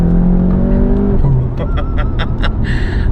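A car running an Integrated Engineering Stage 1 tune pulls hard in second gear, the engine note climbing loud and close before a series of sharp rhythmic pops and bursts near the end.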